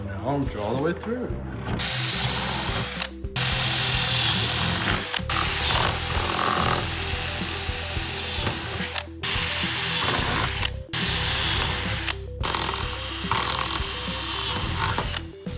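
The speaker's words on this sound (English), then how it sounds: "Now drill all the way through." A power drill runs loud and nearly continuously while drilling mounting holes for a rear wing on a Honda Civic sedan, with a few short pauses and a rattling, grinding edge to its whir.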